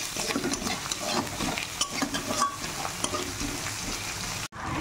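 Onion and garlic fry with whole garam masala in a wok, a steady close sizzle with occasional stirring scrapes, briefly cut off near the end, no talking.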